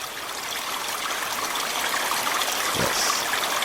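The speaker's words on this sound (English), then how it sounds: "the sounds of flowing liquids" Liquid flowing steadily in a continuous, dense rush like a stream or trickle, played on a sports-talk radio show, with no voices over it.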